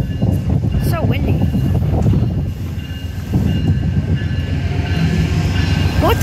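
A P42 diesel locomotive hauling a VIA Rail train rumbles past close by with a steady low roar, wheels clattering and some squeal, wind buffeting throughout and a voice briefly audible.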